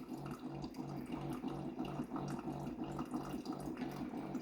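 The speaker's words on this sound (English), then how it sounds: "We got our capsule brewing. We're filling up that cup." Capsule coffee machine brewing into a cup, a faint steady trickle of liquid with a rhythmic pulsing pump hum repeating about every half second, quiet and continuous with no talk.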